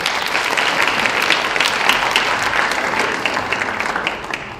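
An audience at a school fashion show breaks into loud, dense, sustained applause that holds steady for a few seconds, then begins to thin toward the end.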